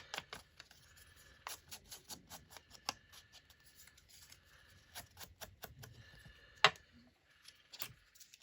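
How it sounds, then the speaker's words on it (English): Scissors cutting printable paper for craft pocket tags: a long run of quiet, crisp, close snips at an uneven pace, with one sharper louder cut near the end. "I'm going to need to cut this guy."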